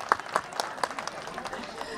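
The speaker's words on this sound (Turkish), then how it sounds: "Alkış Salih'e." Audience clapping on a variety show stage, a spread of individual claps rising and thinning out, mixed with crowd noise and overlapping voices.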